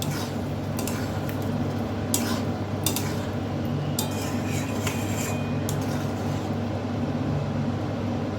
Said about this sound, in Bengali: আর দেব সামান্য একটুখানি ঘি। ভালো করে মিশিয়ে নিচ্ছি।